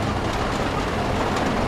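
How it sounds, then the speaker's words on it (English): Half-track vehicle from the WW2 game Squad 44 rolling along, a dense, steady rumbling clatter of engine and tracks at constant loudness throughout, with no talk. "There's a half track following us in."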